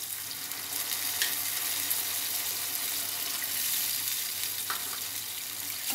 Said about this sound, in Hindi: अब हम इसमें पानी डाल देते हैं।